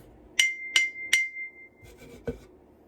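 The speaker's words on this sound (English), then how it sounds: "I'm going to put some water in this one," A drinking glass partly filled with water is struck three times, each tap ringing out as a clear sustained tone that fades, followed by softer handling clinks.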